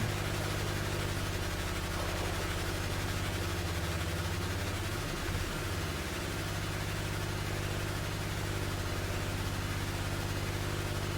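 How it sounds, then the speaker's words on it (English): Several boat engines and propellers strain while towing in Stormworks, a steady droning mechanical hum with a brief pitch sweep midway, continuous and unchanging, with no voices. "We got like 4 engines and 6 props and we're only just moving this thing."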